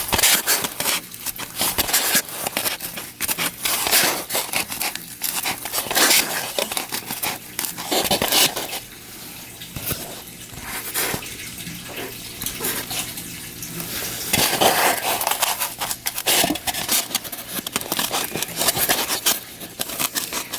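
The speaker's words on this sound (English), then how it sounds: "I'm just going to poke some holes right here in the bottom of this cup" Repeated sharp crunching and snipping clicks as scissors pierce the thin plastic bottom of a cup, irregular and close, with rustling handling between pokes.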